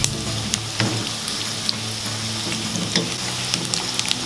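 Pork frying in hot oil with shrimp paste, a dense continuous sizzle with scattered crackles and pops, close and steady throughout.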